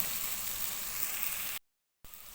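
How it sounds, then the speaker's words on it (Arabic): Rice frying in a pan for rice with vegetables, a steady close hiss of sizzling that cuts out briefly near the end and then resumes. "شوف بقى الخرفشه ده اللي هيخلي الرز بتاعنا بص مفلفل وغني"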